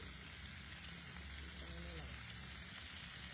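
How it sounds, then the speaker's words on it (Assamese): Pork with small tomatoes fries in a pan, a quiet, continuous sizzle and crackle held steady throughout, with no clear talk over it. "তাৰপিছত ধুনীয়াকৈ অকণমান সময় আৰু ভাজি আছোঁ।"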